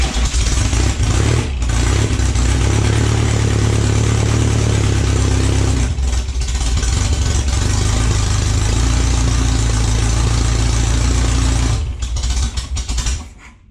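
A VW Beetle engine, mid-restoration, runs with a loud, close, rough rumble that briefly drops out around two points before catching again, with no talk over it.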